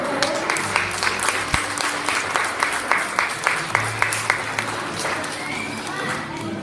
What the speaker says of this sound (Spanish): Vamos a brindarle un fuerte aplauso, por favor.